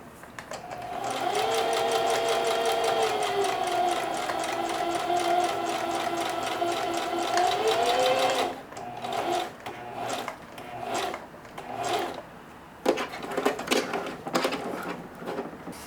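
A sewing machine stitches denim in a long, steady run of rapid needle strokes for about eight seconds, then stops and starts in shorter bursts with handling clicks and rustles, close and loud.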